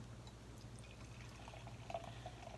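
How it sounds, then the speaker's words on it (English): Dark DuClaw Tiramisu Imperial Stout beer pouring from a freshly opened bottle into a glass, a quiet steady trickle and gurgle close by with no talk. "We'll go ahead and crack it open and get a pour on it."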